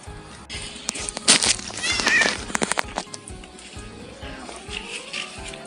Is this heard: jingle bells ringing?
no